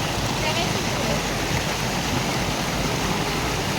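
Water pouring from the fountain at the KRS dam, a dense, continuous rushing roar that stays at an even, fairly loud level from start to finish.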